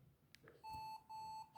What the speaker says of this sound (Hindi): देखिए एक बीप साउंड के साथ आपको अलर्ट किया जा रहा है